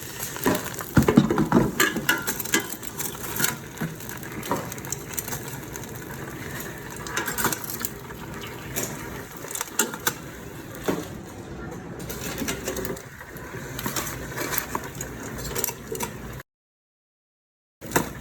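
Fried buffalo wings drained on paper towels give crisp, repeated crunching close up, with sizzling oil and a voice talking over much of it.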